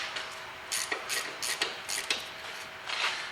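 A ratchet works at a tight brake bolt on a Toyota Corolla, giving irregular clicking and clunking bursts of metal at close range in a quiet garage.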